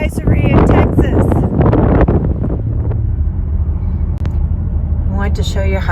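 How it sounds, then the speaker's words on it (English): Strong gusting wind outdoors in Texas during a wind advisory, with gusts near 55 mph, roaring and buffeting loudly against the microphone as low rumble while a person talks over it. "I want to show you how windy it is today."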